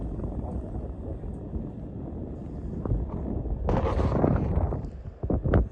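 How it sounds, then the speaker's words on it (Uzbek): Wind buffets the microphone outdoors on a trip to Zomin, a low rumbling rush that swells into a stronger gust toward the end, along with a few brief knocks. "Shamol bor."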